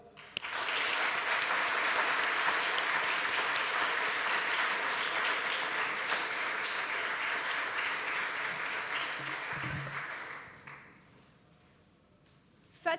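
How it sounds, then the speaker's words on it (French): Sustained applause from an audience at a certificate ceremony, loud and even for about ten seconds before fading out into near silence. "nous applaudissions cette promotion Louise Weiss pour le travail fourni, la motivation démontrée tout au long de ce parcours."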